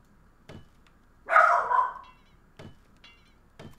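Dog barking indoors, a short loud burst of barks in the middle with a few faint thumps around it, otherwise quiet.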